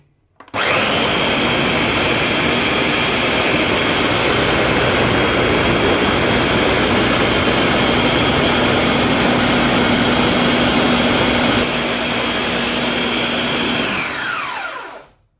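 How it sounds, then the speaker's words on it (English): Kitchen blender whirring through Jamaican green seasoning, a loud steady high-pitched motor roar that starts abruptly, holds for about thirteen seconds and winds down at the end. "And I'm going to just continue to blend."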